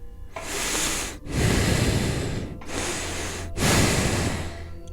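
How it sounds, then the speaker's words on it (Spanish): Slow, heavy breaths in three long drawn-out cycles, each a rough, hissing exhale with brief pauses between, close and fairly loud. "Escuché otra vez, una respiración lenta, trabajosa, como la de una persona muy enferma"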